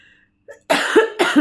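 Two sharp, close coughs follow a brief faint sound, each a harsh burst with a short pause between them.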